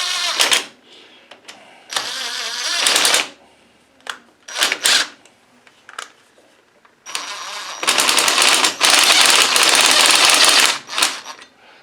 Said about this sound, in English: Just run the torque wrench on it.